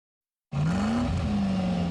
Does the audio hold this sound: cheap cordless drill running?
no